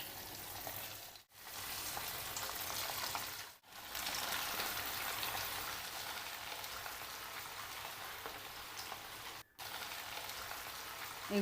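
Chicken pakora pieces frying in hot oil, a continuous rain-like crackling sizzle, steady and moderately close, broken by three brief near-silent dips.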